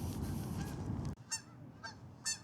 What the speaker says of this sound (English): Wow, there's geese flying overhead. They're quite loud too.